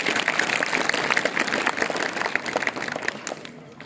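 Audience applause in a hall at a digital literacy awareness seminar, steady dense clapping throughout with a faint voice or two mixed in.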